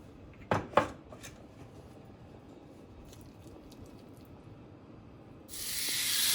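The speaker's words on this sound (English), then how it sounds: "You need to hear that sizzle" Two sharp clatters near the start, then quiet until a loud, steady broadband hiss bursts in — food hitting a hot pan and sizzling.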